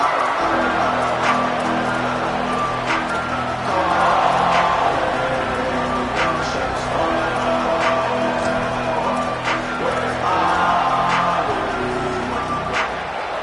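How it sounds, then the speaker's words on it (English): Football stadium crowd at Notre Dame vs Miami, a dense, sustained roar of thousands of fans rising and falling steadily throughout, with a commentator talking underneath. "This crowd ready to make its presence known."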